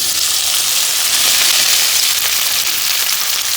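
Okra sizzling steadily in two to three spoons of hot oil in a pan, a loud, even, continuous frying hiss with no break or talking.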